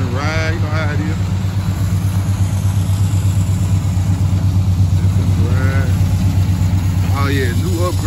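A Monte Carlo SS cruises along back roads with a steady, low engine drone from inside the cabin, with brief speech heard over the constant rumble.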